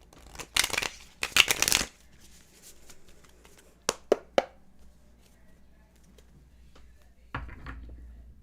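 Tarot cards being shuffled by hand in bursts: a couple of dense riffling flurries, then a few sharp taps, a quiet pause and one more short shuffle, fairly close with no talking.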